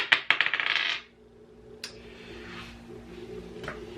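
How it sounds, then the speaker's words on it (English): Dice are rolled on a hard surface, giving a quick burst of sharp clattering impacts that stops within a second and is followed by a few faint isolated clicks against quiet room tone. "Let's roll the dice, see what it says."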